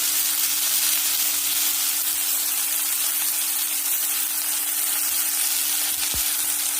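Chopped potato sautéing in a pan for a sprouted moong and chavali dish, a steady broadband sizzle and hiss running loud and continuous throughout, with one brief low thump near the end and no talking.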